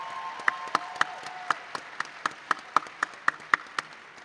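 Sparse, evenly spaced claps from an audience at an awards evening, a dozen or so sharp hand claps ringing out in a roomy hall at moderate distance, with no voices.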